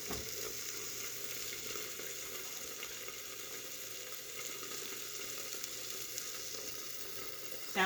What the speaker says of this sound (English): Sometimes grease does pop.